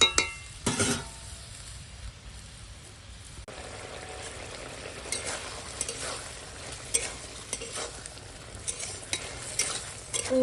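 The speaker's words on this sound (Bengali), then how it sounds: "লঙ্কার গুঁড়ি আর দেবো হলুদের গুঁড়ি এখন দিয়ে দেবো ভেজে রাখা পটল দিয়ে এখন রান্নাটা হবে" Fried pointed gourd tossed with salt, chili powder and turmeric powder in a pan, giving a steady low sizzle with repeated scraping stirs and occasional clinks of a spatula over about ten seconds.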